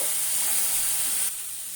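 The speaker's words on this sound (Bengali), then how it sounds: "এক চামচ কাঁচা লঙ্কা এক চামচ ধরুন আদা বাটা দিয়ে নেড়ে চেড়ে দেব" Green chili and ginger paste frying in a hot pan while being stirred, a close, steady sizzle that softens slightly near the end of a short burst.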